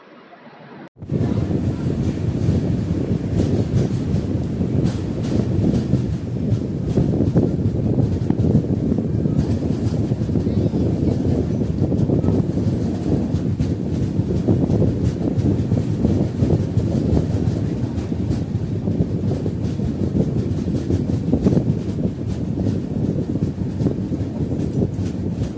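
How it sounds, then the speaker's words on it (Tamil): Uday Express double-decker AC train running between Coimbatore and KSR Bangalore, heard as a loud, steady rumble of wheels and carriage with wind noise that continues unbroken for the whole stretch, with no talking. "தமிழ்நாடு, ஆந்திர பிரதேஷ், கர்நாடகா 3யும் ஜாயின் பண்ணது கவர் பண்ணது இந்த Uday express double decker train."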